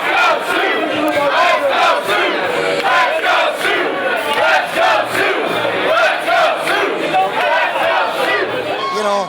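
Loud, continuous roar of thousands of hockey fans cheering in the TD Garden arena during a college hockey national championship tournament, a dense crowd wall with shouts and yells rising above it throughout.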